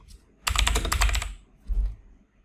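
A computer keyboard clatters in a quick, dense burst of keystrokes, typing into a Windows search box. A short second burst follows after a pause; the clicks are close and fairly loud, with no talking.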